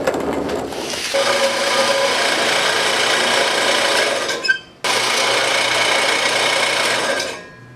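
Exhaust pipe pieces cut to 18 inches for an eBay dual exhaust, a steady grinding, rasping cut running nearly continuously with one short break partway through before winding down.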